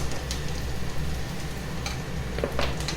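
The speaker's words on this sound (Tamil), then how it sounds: "இப்போ வெங்காயம் வதங்கிட்டு" Onions frying in a pan for an eggplant stir-fry, a low steady sizzle with faint scattered crackles and no voices.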